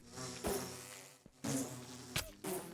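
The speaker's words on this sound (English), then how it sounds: "Like, I don't really care for these bees." Insect-like buzzing from bees in the Minecraft video game, a steady low hum interrupted by several short bursts of louder, brighter buzzing at close range, with no talking.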